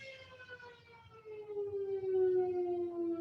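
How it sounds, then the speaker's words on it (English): A civil defense siren wails outside, a faint steady tone that swells slightly louder as it holds. "And then we'll just wait for the siren to finish its thing."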